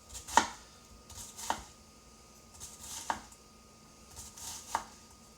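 Knife chopping onion on a cutting board, four separate sharp chops spaced over a few seconds, close and fairly quiet with faint background between strikes.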